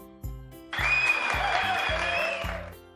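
Wedding guests burst into loud applause at the bride's entrance, a dense wash of clapping that swells in after a few low tonal notes and holds steady to the end, with music or a voice faintly beneath.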